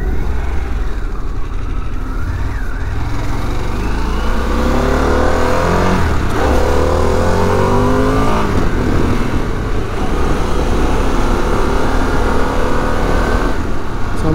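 Harley-Davidson Pan America motorcycle riding along an A road, a steady engine drone with rising and falling revs through gear changes, heavy wind rush over the microphone throughout, loud and close.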